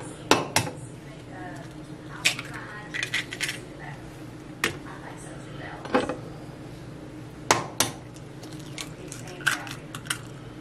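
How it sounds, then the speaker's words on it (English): Two eggs cracked against a bowl edge and dropped into a keto meatloaf mix, heard as several sharp clicks and knocks scattered through a quiet kitchen, close and fairly faint. "Two eggs, adding two eggs to the mix."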